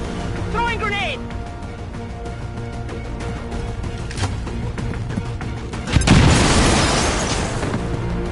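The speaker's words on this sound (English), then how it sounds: "Throwing grenade!" Grenade explosion in XCOM 2, a sudden loud boom partway through with a rumbling decay, preceded by game sounds and background music.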